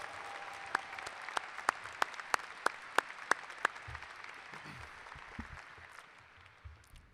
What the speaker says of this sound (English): Please help me congratulate our retirees with a round of applause